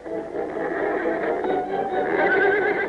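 A horse in a 1937 rodeo film gives a loud, close whinny lasting a few seconds, its rising and falling neigh heard alone without any talk.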